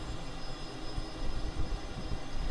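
Steady, faint drone of a simulated aircraft engine running in Microsoft Flight Simulator 2020, a continuous broadband hum with a low rumble and no voices.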